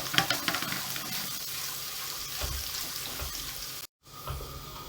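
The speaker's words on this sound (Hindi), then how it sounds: "पहले इसको फ्राई करेंगे" Boiled cauliflower florets fry in a pan for a homemade cauliflower mutton curry, giving a continuous loud hissing sizzle with a brief dropout near the end.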